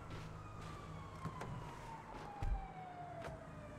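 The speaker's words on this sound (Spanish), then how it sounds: "Sirena de policía, cuidado." A police car siren in a GTA roleplay video game wails in a slow falling tone, moderately distant under steady background noise, with a few brief clicks and a low thump.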